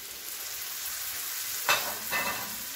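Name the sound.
tuber frying in a pan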